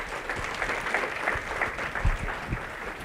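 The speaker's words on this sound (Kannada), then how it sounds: "ಇಷ್ಟೇ ಚಪ್ಪಾಳೆ ಹೊಡೆದ್ರೆ ತುಂಬ ಕಡಿಮೆ ಆಗುತ್ತೆ." An audience at a talk on teachers claps at the close of a speech; the clapping is moderate and fairly thin, with scattered close claps over a quieter crowd background.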